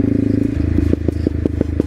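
A Crossfire CF 250 Twin motorcycle with a loud exhaust idles with a steady, throbbing engine note, then lets out a series of sharp, close popping bursts in quick, uneven succession.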